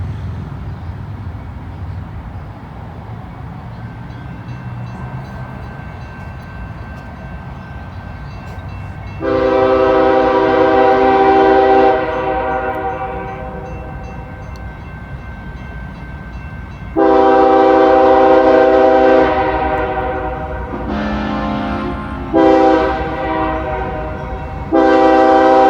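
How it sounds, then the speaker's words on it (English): A northbound train approaching and passing, its low rumble underneath several loud, sustained horn blasts, two long ones followed by a cluster of shorter honks, close and dominant. "We got us a northbound coming now."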